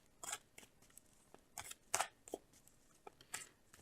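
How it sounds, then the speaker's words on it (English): Tarot cards are shuffled by hand, giving a string of quiet, crisp riffles and flicks in irregular bursts, close by and faint, with no talk. "As I'm shuffling the cards"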